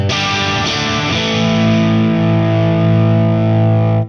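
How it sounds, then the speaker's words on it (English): A guitar amp cranked into its drive channel with a Crazy Tube Circuits Bulb Compressor pedal, giving a loud, thick, sustained distorted chord that rings steadily before cutting off abruptly. "Let's crank the amp's channel into drive. And give it the bulb as well."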